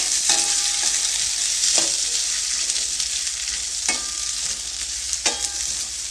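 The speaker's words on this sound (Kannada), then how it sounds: "ಈಗ ಇದು ಬ್ರೌನ್ ಕಲರ್ ಬರೋವರೆಗೂ ಫ್ರೈ ಮಾಡ್ಕೋಬೇಕು" Onions frying in oil in a pan for onion chutney, giving a loud continuous hiss and sizzle close up, broken by a few sharp clicks of a spoon stirring.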